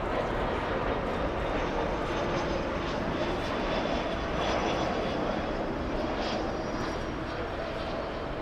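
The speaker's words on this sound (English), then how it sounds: "A350 making a nice right turn" A jet airliner at Frankfurt airport makes a continuous broad engine roar while turning, steady and fairly distant, with faint voices in the background.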